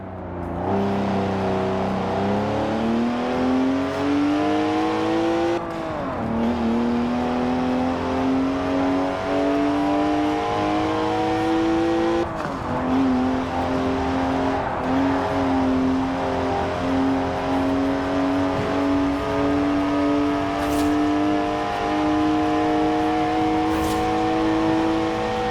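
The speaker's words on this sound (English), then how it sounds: "3-litre straight six, 335 horsepower, 2 turbos," BMW 3-litre twin-turbo straight six in Forza Horizon 4, 335 horsepower, droning loudly as it revs and climbs through the gears, with brief dips at shifts and a sustained high engine tone throughout.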